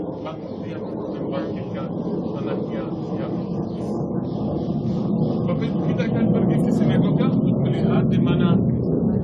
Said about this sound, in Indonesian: yang ngikutin itu suara pesawat tempur